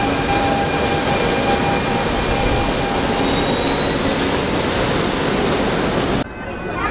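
Train bound for Disneyland Paris running, a steady loud rumble of wheels and rail noise with faint squeals, continuous throughout before dropping abruptly near the end.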